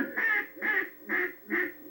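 A hunter's duck call imitates a hen mallard's comeback call: four evenly spaced, nasal quacks in a steady rhythm, loud and close with quiet gaps between.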